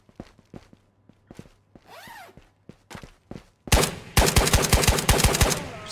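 SKS rifle fire in Escape from Tarkov, a few sparse shots and footsteps at first, then a loud, rapid burst of close gunfire that continues to the end.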